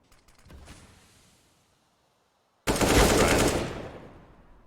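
A burst of AK rifle fire in a professional CS:GO match, loud and sustained for over a second after a quieter rattle of distant shots, with no talking.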